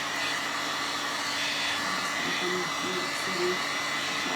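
Steady, close whirring of a hair dryer drying a fresh coat on the inside of a refurbished DIY wooden remote control caddy, running continuously at an even level with no talk.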